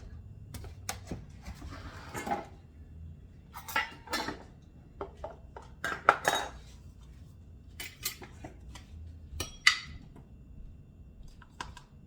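Measuring cups and metal utensils clink and clatter against bowls while all-purpose flour is measured for mushroom scones, a close, irregular series of sharp taps and scrapes with quiet gaps, no talking.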